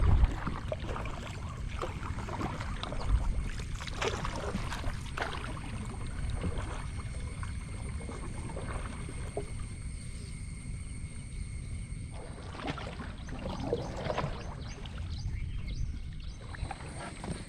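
A small wooden fishing boat carries a net-fishing crew across open water, a steady engine-and-hull rumble with water wash running continuously, close and moderately loud, with no clear speech.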